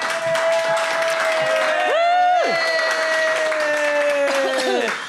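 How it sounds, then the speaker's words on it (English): An audience at an Edinburgh Festival comedy show applauds as stand-up comedian Rory O'Keefe is introduced. Continuous crowd clapping sits under loud, sustained walk-on music. "Round of applause, Rory O'Keefe."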